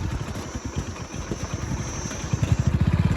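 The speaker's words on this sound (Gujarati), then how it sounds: "ત્યાં બાઇક લઈને જવાનું છે નીચે" A motorcycle engine putters close by on a rough road near a river ravine, its rhythmic low thumping growing louder and clattering toward the end.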